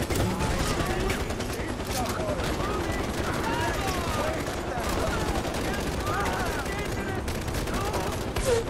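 Gunfire in the video game Far Cry 4, rapid automatic bursts and repeated shots rattling almost continuously, loud and close, with a voice talking over them.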